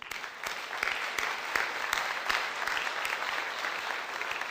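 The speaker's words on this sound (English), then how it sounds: "So a round of applause for both of them" Audience applause at a 2006 space conference welcoming session, steady crowded clapping with distinct sharp claps standing out, moderately loud and continuous with no talk.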